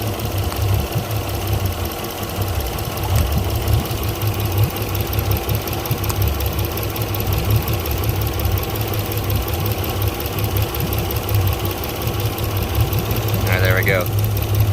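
Yamaha outboard engine on a Pursuit 295 DC boat, running with a dead bottom cylinder on the port side, a loud steady uneven idle that continues throughout with a brief high whine near the end.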